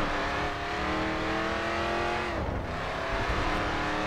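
Race car engine in the GRID 2 racing game, a loud sustained roar that drops and climbs again as the car shifts and accelerates, with no voices over it.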